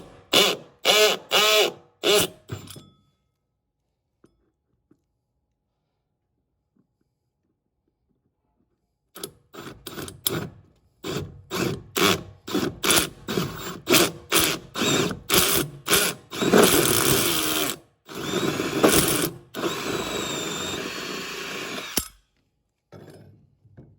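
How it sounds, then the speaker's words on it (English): A power drill bores a hole through the wall of a plastic pressure-washing water tank in short, repeated whirring bursts with grinding bites, after a brief opening burst and a quiet pause. "now that we got that hole drilled"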